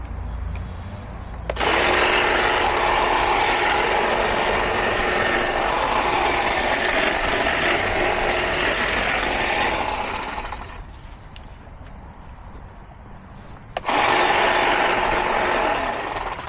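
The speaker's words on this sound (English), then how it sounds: "This is a natural gas powered generator." A natural gas powered generator runs nearby in a wooded area, a loud steady mechanical drone that dips briefly, then resumes at full strength.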